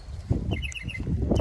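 Bird chirping close by in the morning: several short, high chirps and tweets in quick succession over low background rumble, with no speech.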